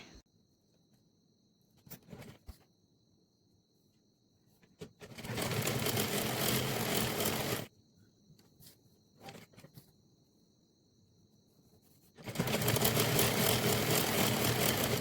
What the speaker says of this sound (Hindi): तो अब इसे सिलना है मेरे को।